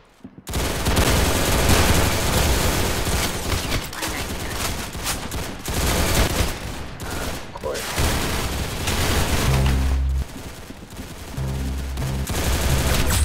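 Sustained rapid gunfire from Roblox Arsenal fills the whole stretch, loud dense fusillades of automatic shots with heavy low booms near the end and no pauses.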